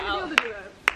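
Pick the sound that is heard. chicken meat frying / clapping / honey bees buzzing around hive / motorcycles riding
clapping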